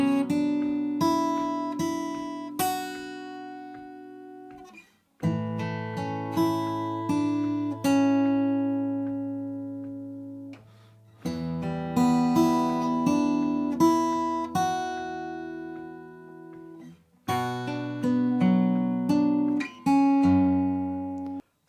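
A guitar picks the first line of The Last of Us theme, with clean, plucked notes ringing over low bass tones in four unhurried phrases separated by short gaps, played alone without speech.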